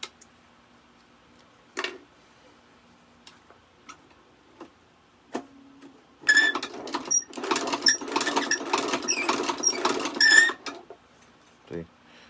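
A Chinese leather shoe patcher sewing machine stitches in a dense mechanical burst lasting several seconds, preceded by scattered clicks and taps of handling the machine.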